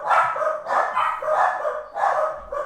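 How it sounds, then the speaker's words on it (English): Several dogs at home bark at someone arriving, in a run of about five loud, close barks with short gaps between them. "Sorry if you can hear my dogs."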